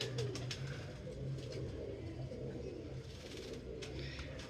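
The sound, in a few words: pigeons cooing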